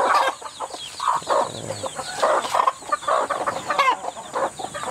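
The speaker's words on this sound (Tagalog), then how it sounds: "Ito yung iba natin sa mga manok." A flock of native chickens clucks and murmurs continuously nearby, overlapping soft calls with an occasional louder squawk, no talking.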